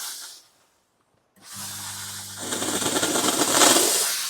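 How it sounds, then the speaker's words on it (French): A steam cleaner used for car interior cleaning starts up after a short silence with a motor hum and then sprays a loud, growing hiss of steam close by. It is heard alone. "Je remets la vapeur."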